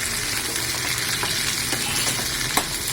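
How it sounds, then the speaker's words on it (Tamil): Tomatoes and drumsticks sautéing in a pan for a Tirunelveli-style sundakkai vathal kuzhambu, a steady close sizzle and frying crackle with occasional sharper stirring clicks throughout. "தக்காளியும் போட்டு நல்லா மிக்ஸ் பண்ணி வச்சுக்கோங்க. நல்லா வதங்கட்டும்."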